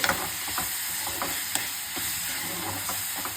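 Chopped tomatoes are stirred in a hot pan for fish curry, giving repeated scraping strokes and light clicks over a steady frying sizzle.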